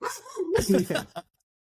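A dog barking and yipping indoors during a tech discussion, several quick close barks and whines mixed with speech, ending abruptly in silence.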